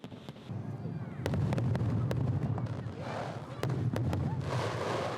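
Fireworks burst over an ice and snow festival, a series of sharp cracks and booms over a rumbling crowd, with people talking nearby throughout.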